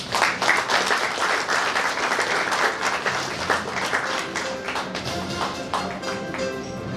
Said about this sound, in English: another warm round of applause to our UK Ambassador to the Philippines